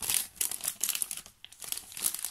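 Close crinkling of a small plastic bag of paper die-cuts being handled, busy irregular rustles and crackles running continuously with brief pauses.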